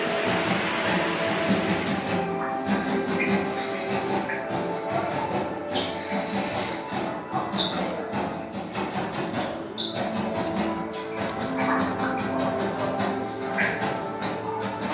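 Black Mamba, a B&M inverted roller coaster at Phantasialand in Brühl, Germany, roars along its track with a loud, steady rumble and rattling clatter that swells and eases slightly throughout, with no talking.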